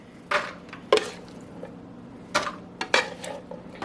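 A spoon moves cooked hamburger meat into a pan: a few scattered metallic scrapes and clinks against the pan, close by, with quiet gaps between them.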